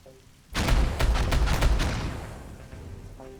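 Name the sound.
gunfire from a firing line in RimWorld video game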